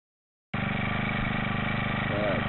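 A Honda 35cc four-stroke gas engine mounted on a Hobie Revolution kayak starts up after a short silence and settles into a steady, even idle with a rapid regular putter, close and moderately loud.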